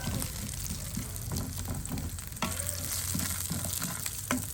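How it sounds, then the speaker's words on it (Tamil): Garlic fries in oil with onion and curry leaves, a steady close sizzle broken by repeated spatula scrapes and stirs, with no talking. "கொஞ்சம் உள்ளி பொன்னிறமாக வதக்கலாம்"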